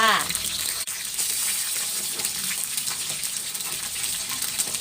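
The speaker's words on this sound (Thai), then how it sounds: "ทอดไฟกลางๆนะคะทอดไปเรื่อยๆกลับด้านไปค่ะ" Mackerel fries in hot oil at medium heat with a steady, dense hiss and crackle that stays loud and even throughout.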